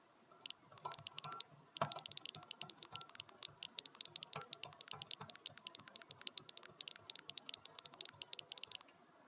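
Fast, rapid mouse clicking in Cookie Clicker, a dense stream of light, close clicks in quick rhythm lasting several seconds, fairly quiet.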